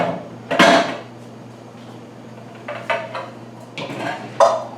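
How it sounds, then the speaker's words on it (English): Mixing bowls pulled out and set down in a home kitchen, a few loud clattering knocks of bowls against each other and the counter, separated by quiet pauses, no talking. "let's get out these mixing bowls and the chocolate chips"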